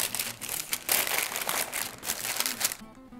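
A plastic storage bag crinkles and rustles steadily up close for about three seconds, used while making a quiche, before the sound cuts off abruptly.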